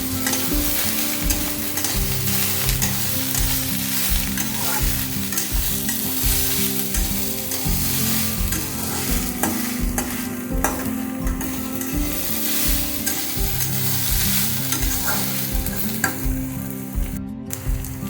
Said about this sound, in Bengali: কষানোর পর্ব চলছে